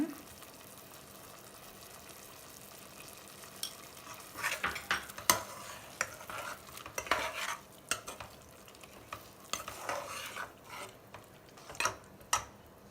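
Chicken masala for gongura chicken curry is stirred in a pan with a faint sizzle underneath, and a spoon scrapes and knocks in irregular bursts.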